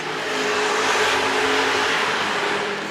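A 2012 Ducati 1199 Panigale sport bike accelerating hard down a long straight, a loud, sustained engine roar with a steady droning pitch that swells and eases slightly over a few seconds.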